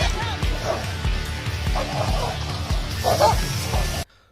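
A big dog barks repeatedly in quick, loud bursts close by, with other dogs yipping and whimpering amid a bull confrontation, before the sound cuts off abruptly.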